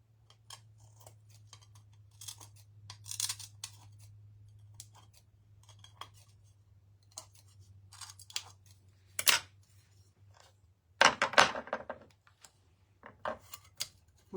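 Scissors making small trimming snips, scattered sharp clicks and short cuts, some close and crisp, over a faint low hum in a quiet room.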